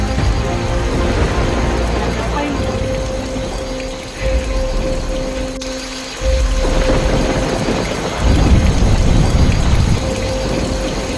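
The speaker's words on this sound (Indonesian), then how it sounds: "Tiba-tiba langit menjadi gelap dan turun hujan yang sangat deras disertai petir." Heavy rain falls steadily and loudly, with low rumbling thunder swelling in bursts near the middle and toward the end.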